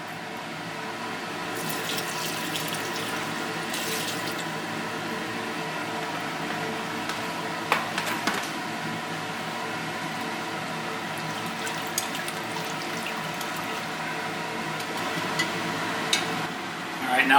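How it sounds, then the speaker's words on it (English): Gold being rinsed with hydrochloric acid in a stock pot: a steady, close wash of liquid sloshing and swirling, with occasional light clinks and taps throughout. "I'm going to rinse the gold with some hydrochloric acid here."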